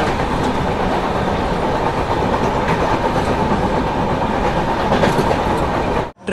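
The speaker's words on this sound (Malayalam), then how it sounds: "ട്രെയിൻ ഇപ്പൊ തിവിം റെയിൽവേ സ്റ്റേഷനിൽ എത്തിയിരിക്കുകയാണ്" A sleeper-class express on the Konkan route pulls into Thivim railway station in North Goa, steady loud rumble and clickety-clack of carriages rolling on the rails, continuous and close, cutting off abruptly at the end.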